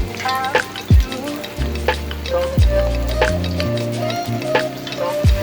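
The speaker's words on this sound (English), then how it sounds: "because the wings are frozen, the oil is going to cool off" Frozen mozzarella cheese wings fry in hot oil with a loud, steady, close sizzle and crackle, broken by several sharp pops and knocks, and no talking.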